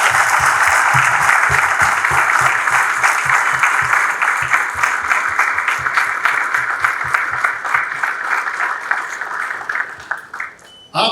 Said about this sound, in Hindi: अपनी जगह पर खड़े होकर जोरदार तालियों के साथ बच्चों और उनके पेरेंट्स का अभिनंदन करें